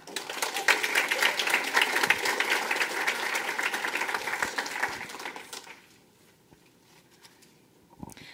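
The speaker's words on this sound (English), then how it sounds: "Please welcome up with a big round of applause the 2019 second princess, Brooke Adamitz." Audience applause at a Bar-B-Q Days royalty coronation ceremony, a brisk patter of many hands that fades out after about five seconds, leaving near silence with a single faint knock near the end.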